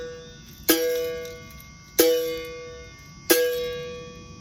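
A berimbau plays its closed tone with a coin pressed against the wire, struck three times at even intervals of about 1.3 seconds, each a bright ringing twang that decays slowly, close and alone.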